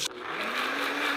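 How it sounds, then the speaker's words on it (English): A kitchen blender whirs steadily at close range, a loud sustained motor drone that holds after a brief start. "Blender."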